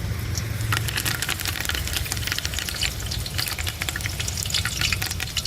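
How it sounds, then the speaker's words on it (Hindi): Whole cloves and black pepper crackling in hot oil, with a busy sizzle and many sharp pops and spits, heard close and without talk. "और ये लौंग डालेंगे और काली मिर्च डालेंगे। अच्छा तड़कने देंगे"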